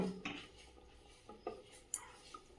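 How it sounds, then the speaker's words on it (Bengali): A lid being placed on a pot of hilsa fish curry: a few faint, light metallic clinks and taps of metal cookware, sparse and close in a quiet room. "ঢাকনাটা দিয়ে দেব"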